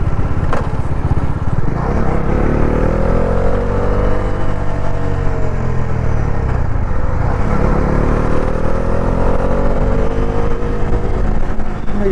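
A Bajaj Dominar 400, a six-speed motorcycle, cruises along a newly built road with a loud, steady engine drone that rises and falls through gear changes, mixed with strong wind rush, continuous throughout.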